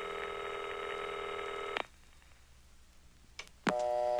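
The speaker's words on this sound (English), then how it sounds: "Stand by. I'm ringing." A phone's dialing tones sound as a steady multi-tone beep, break off with a click, then after a short quiet gap another tone starts abruptly.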